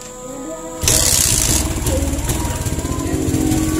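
A Suzuki Smash motorcycle engine running without a battery on a local regulator rectifier kicks in abruptly and then runs at a fast, rough, pulsing idle, close and loud, with faint talk before it starts.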